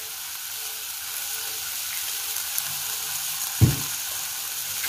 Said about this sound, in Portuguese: Pra poder agora refogar aqui o meu alho, minha cebola